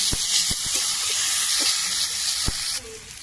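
Green beans and potatoes fry in a pan with chilli, ginger, cumin, turmeric and salt, giving a steady close hiss and sizzle with a few sharp clicks, the sizzle dropping away near the end.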